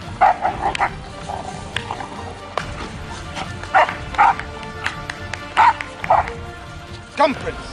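A playful pet dog barks and yips in short bursts while playing with a lion, close and irregular, against a busy background with a voice talking over it.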